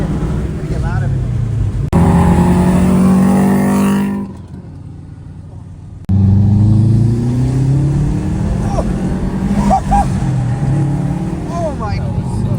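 A BMW E39 540i V8 roars through loud, rising revs up close, cuts to a brief quieter idle, then blasts again, with excited voices talking throughout.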